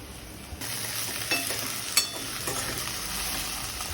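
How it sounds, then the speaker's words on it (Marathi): Okra sautéing in a pan alongside potato for a spiced bhindi-batata sabji, a continuous close sizzle with a few light utensil scrapes and taps. "सात ते आठ मिनटं भेंडी परतून घ्यायची"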